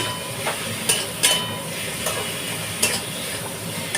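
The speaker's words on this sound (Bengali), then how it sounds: "ডুমো ডুমো করে আলুগুলো থেকে রেখেছি সেগুলোর মধ্যে দিয়ে দিচ্ছি দিয়ে এবার ভালো করে কষাবো" Diced potatoes stirred and fried with spices in a pan for a chickpea curry, with a steady low sizzle broken by several sharp scraping stir strokes, close and fairly quiet.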